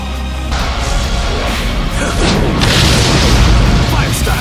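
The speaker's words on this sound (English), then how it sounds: "Chidori Blade! Fire style! Dragon Fire Jutsu!" Fire Style Dragon Fire Jutsu attack in the Naruto Storm Connections video game, a loud sustained roaring blast with booming bursts that swell near the end, heard alongside in-game voices.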